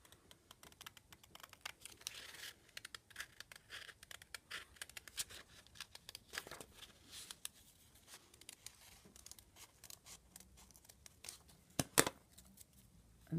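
Scissors snip through felt while cutting out a heart shape, giving a steady run of close, small crisp clicks and rustles with a few louder sharp cuts near the end.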